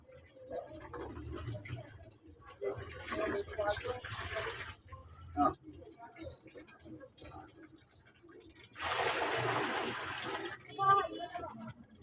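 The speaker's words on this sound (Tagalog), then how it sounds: "Tatransfer yung tubig mula dito sa container, dadalhin sa batsang itim." Water is poured from a container into a black basin for laundry, giving several splashing, gushing bursts with gaps between them, fairly close and moderate in volume, while a person talks at intervals.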